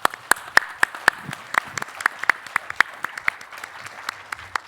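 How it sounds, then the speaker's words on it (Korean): Audience at a university presidents' education conference clapping: sharp, distinct hand claps in a steady rhythm, fairly close and sparse rather than a dense roar, over a quiet room. "우리 교육부 장관님과 실국장님께 한번 박수 한번 다시 보내드리죠"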